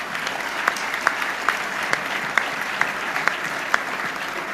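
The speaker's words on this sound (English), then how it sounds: "Let's have one more round of applause for everybody on the head table." Steady audience applause fills the room at the 2005 Radio and Television Correspondents' Dinner, a dense, even clatter of many hands with a few sharper claps standing out, with no voices over it.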